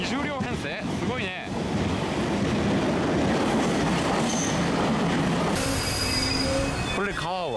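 A long 20-car train passes in Seoul, heading across a river toward the central station, with a loud continuous rumble, screeching wheel squeal, and a voice at the start and end.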